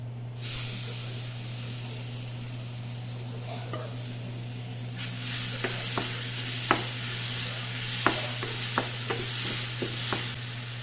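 Onion paste fries with paneer and turmeric in a pan for matar paneer; a low steady hum runs beneath, then a brighter sizzle swells midway with repeated sharp spatula taps and scrapes.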